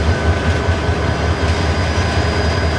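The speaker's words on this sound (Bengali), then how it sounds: "একটা লাল সবুজ ট্রেন কিন্তু 2700 সিরিজের ইঞ্জিন নিয়ে আসছে" A red-and-green intercity train hauled by a 2700 series locomotive approaching on its way to Burimari, a steady close rumble of rolling stock with a low rhythmic clatter and no voices.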